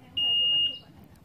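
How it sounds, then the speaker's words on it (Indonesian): A single high electronic beep from a keyless remote's motorbike finder on a Yamaha NMAX sounds for about half a second, close and clear, over faint background noise. "Kalau tombol yang ini, beep ini hanya mencari motor di parkiran."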